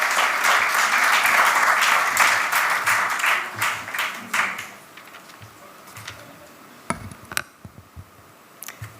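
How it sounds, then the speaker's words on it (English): An audience at an evening lecture event applauds, loud and full for several seconds, then fading into a few scattered claps and knocks. "Please, big round of applause."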